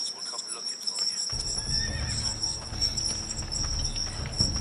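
A horse neighs and its hooves clip-clop in the video game Game of Thrones: A Telltale Games Series, a loud whinny near the start followed by steady hoofbeats over a continuous outdoor ambience with a high whine.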